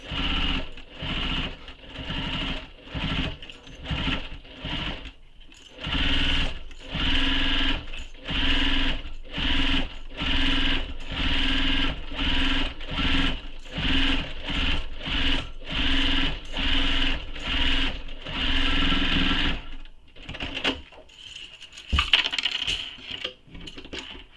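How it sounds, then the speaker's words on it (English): Sewing machine stitching a leather-style pocket onto the front of a satchel bag, running in rapid bursts with short pauses between passes, steady and close, with no talking. "So I'm going to stitch this in place, and I'm just following my last basting stitches."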